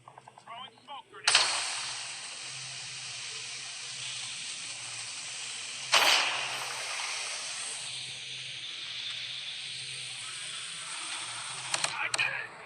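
Gunfire in the video game Call of Duty, sharp loud bursts with a hissing, mechanical tail, separated by stretches of quieter ambience and a few clicks near the end.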